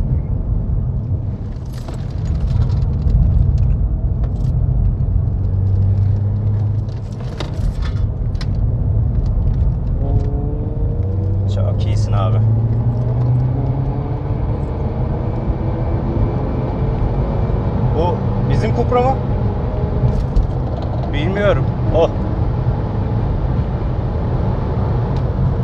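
An Opel Astra OPC drives a race track, its engine a steady loud drone with rising gear-pull harmonics through a corner, heard from inside or close by, with occasional faint talk.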